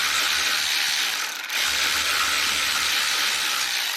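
A ratchet works loose an exhaust clamp on a Harley-Davidson Sportster, giving a steady, close, hissing mechanical rasp that dips briefly midway, with no talking.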